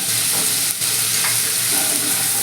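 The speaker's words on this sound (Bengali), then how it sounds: "এবার আমি মশলাটাকে একটু কষিয়ে নেব" Spiced masala paste with soaked chickpeas sizzles steadily in a pan, a dense continuous frying hiss with a faint stir near the start, close and fairly loud with no talking.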